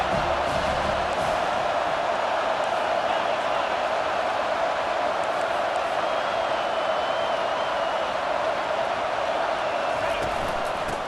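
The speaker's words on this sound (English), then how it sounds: "This crowd knows this defense needs them right now." Dense, constant stadium crowd roar in College Football 25 during an Alabama versus Tennessee game, a loud unbroken wall of cheering noise with no distinct claps.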